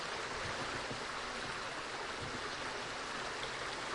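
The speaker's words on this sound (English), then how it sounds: "That's why you hear all the running water." Steady, broadband rushing of running water heard from underwater in the game 7 Days to Die, a constant even wash with no breaks and no voices.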